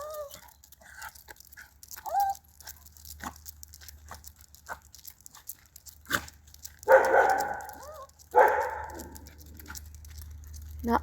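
Pet dogs scuffle and bark, with short growling yelps and a couple of louder snarling barks near the end among faint rustling, fairly quiet overall.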